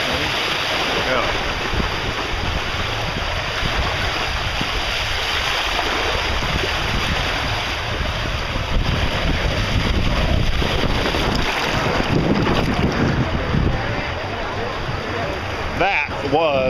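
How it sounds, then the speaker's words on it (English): A rider rushes down a water park slide, with a steady loud wash of flowing, splashing water and rushing air throughout and faint voices near the end. "I'm going down the water slide on the left."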